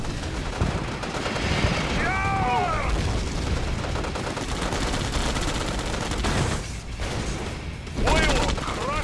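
Continuous gunfire and explosions in a Red Alert 2 mod battle form a dense, loud barrage throughout, with brief game voice lines breaking in over the shooting.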